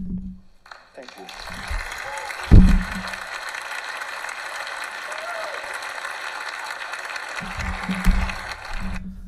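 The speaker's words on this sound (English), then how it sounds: "they're standing and applauding for this guy" An audience at a TED Talk on income inequality stands and applauds, a steady wash of clapping that swells and holds for several seconds, with a few low thumps and a voice briefly heard at the start and end.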